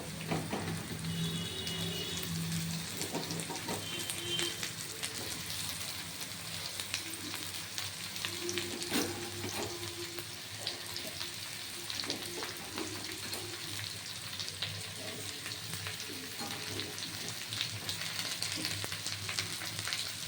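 Potatoes and pumpkin sizzle steadily in a pan with two bay leaves, cooked in their own moisture without added water for a Bengali vegetarian Malabar spinach curry; a continuous close frying hiss with small crackles throughout.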